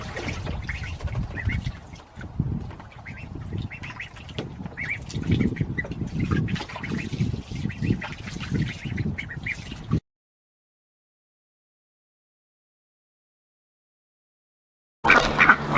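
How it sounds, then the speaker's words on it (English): Domestic ducks quack in soft, irregular bursts close by for about ten seconds, then a gap of silence before the sound briefly returns. "It looks like that ducky wanted to get out."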